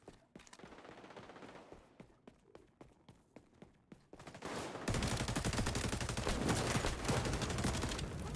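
Gunfire in the shooter game XDefiant: a string of separate sharp shots and footsteps, then a dense, loud sustained burst of rapid automatic fire that fills the last few seconds.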